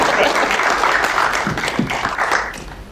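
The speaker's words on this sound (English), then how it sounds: "We can clap for her" Press conference audience on an extreme heat watch breaking into applause: a short burst of scattered, fairly close hand claps that thins out and fades toward the end.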